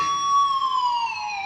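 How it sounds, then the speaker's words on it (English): A harmonic played on an electric guitar dives slowly downward under a whammy bar, a single sustained, bright, siren-like tone with no talking over it. "when I do it with just my whammy bar, it sounds like this."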